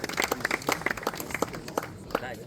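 A crowd applauds a kart racing team at a turbo-kart race in Wohlen, with scattered claps near and loud, quickly thinning out, over a busy background.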